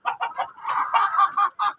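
Village laying hens of the Elba type cluck close by, a quick run of short, repeated clucks with a few longer drawn-out calls mixed in, loud and clear with no talking.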